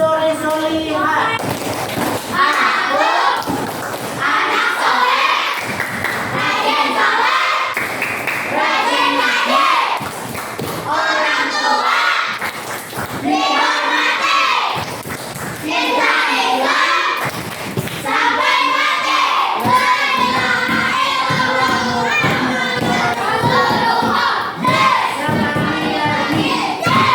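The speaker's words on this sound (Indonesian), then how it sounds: "Yuk sama-sama kita tepuk anak soleh." Schoolchildren in a classroom chant together in loud unison while clapping in rhythmic bursts for the tepuk anak soleh clap chant, with voices dominating and claps scattered through the whole stretch.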